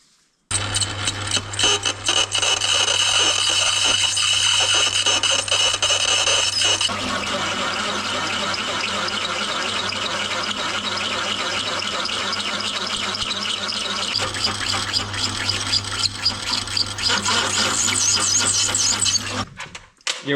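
Power drill or grinder working on a rusty part of a small barn-find buggy, loud continuous whine with a steady low hum, shifting in pitch partway through, running almost without pause.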